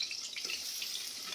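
Onion frying in hot oil with dried red chilli and nigella seeds in a traditional Bengali kitchen, a steady close hissing sizzle with faint crackles running throughout, no talking.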